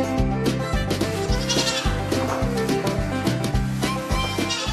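Pygmy goats at a farm Pilates class in Fife bleat amid a steady rhythmic, music-like pulse that runs throughout at a fairly loud level.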